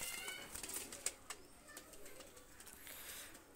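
Two baby red-necked pigeons, Pakistani Oman breed, coo softly and flap their wings after release, giving faint scattered bird sounds with a few sharp flutters near the middle.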